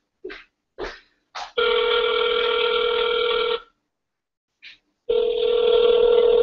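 A telephone call in progress: a few short dial-tone blips, then two long steady ringback tones separated by a pause, loud and close with no talking.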